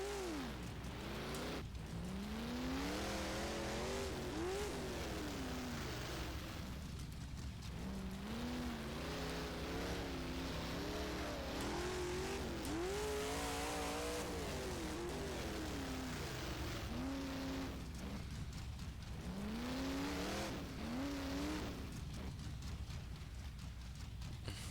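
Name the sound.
race car engine revving in a video game, rFactor 1 dirt mod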